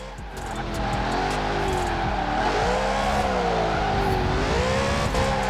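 In Forza Horizon 4, a Lexus RC F 5.0 V8 revs hard and continuously with too much throttle, its pitch rising and dipping, with a steady loud whine and no voices.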